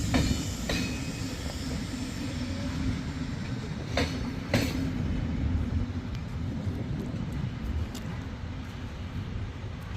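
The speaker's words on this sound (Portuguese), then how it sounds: "Olha como é que é o trem aqui em Belgrado, olha aí, pessoal." A train running through Belgrade rumbles steadily with clattering wheels and a few sharp metallic clicks and squeals, heard close and continuous for the whole stretch.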